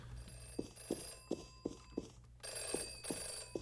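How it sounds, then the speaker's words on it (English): A telephone in the video game Anger Foot rings in short, regular bursts about every third of a second, with faint steps in the background and a brighter hiss swelling partway through. "Oh, it is a phone."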